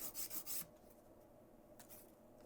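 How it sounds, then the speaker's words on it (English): Emery board filing a sculpted gel almond nail, a few quick close rasping strokes in a short burst, then quieter light scraping and one more stroke, faint and alone. "I'm gonna use an emery board for that so I can get nice and tight in there."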